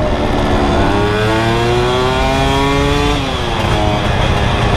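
A Yamaha F1ZR two-stroke motorcycle fitted with a CLD C1 racing exhaust revs loudly and continuously, its pitch climbing and falling through sweeping mid-range rises, close to the microphone with no talking.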